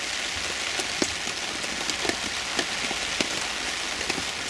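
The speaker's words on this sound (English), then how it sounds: "like it rains now" Rain falls steadily during a bicycle tour in France, a constant close hiss broken by irregular louder drips and taps, with no one talking.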